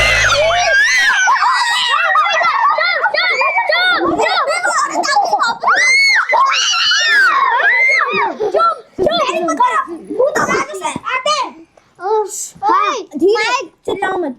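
Several children scream and shriek loudly and continuously while telling scary stories, with high wavering cries overlapping giggles and excited chatter, tapering into shorter bursts near the end.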